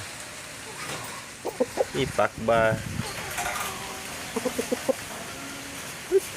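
A chicken lets out a quick run of short clucks, fairly close and moderately loud, while someone talks nearby.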